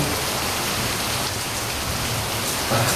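Heavy night rain at a campsite, a dense, continuous hiss of drops pattering on surfaces, loud and unbroken throughout with no voices.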